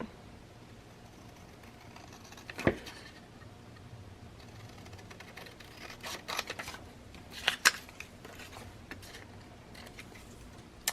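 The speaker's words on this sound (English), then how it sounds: "I'm going to cut these out." Scissors cutting out traced paper shapes for crafting, quiet close snips and crisp paper rustles in scattered bursts, with a cluster of sharper cuts toward the end.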